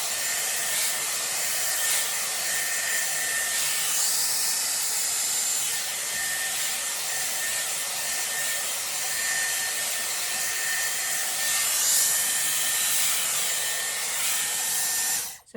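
A Dyson Airwrap blows air steadily through hair in a salon-style blow-dry, a loud continuous hissing whoosh with a thin high whine, holding even for the whole stretch before cutting off at the end.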